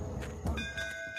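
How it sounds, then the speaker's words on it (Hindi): A bell rings once, its clear metallic tone striking and then sustaining steadily over low background rumble. "घंटी बजी।"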